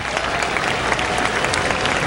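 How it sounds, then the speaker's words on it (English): Crowd at a Triple-A baseball game between Buffalo and Worcester applauding a departing pitcher, a steady wash of clapping and cheering that fills the stadium. "he'll get a round of applause from the Worcester faithful"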